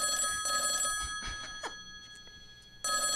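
A telephone sound effect rings in bursts, with a loud electronic ring at the start, then scattered softer clicks and tones, then another loud ring at the end.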